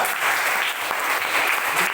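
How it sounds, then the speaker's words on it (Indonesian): Students clapping in a school classroom during a lesson: a short, continuous burst of dense applause lasting about two seconds. "bagus, tepuk tangan."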